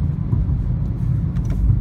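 A car engine rumbles low and steadily while the driver works the paddle shifters, a close, continuous drone with no clear break and no speech.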